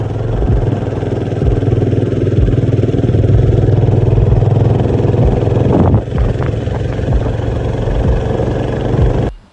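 A motorcycle rides along narrow village roads, its mid-pitched engine droning steadily and close throughout, with a brief clattery dip partway through before the engine note resumes.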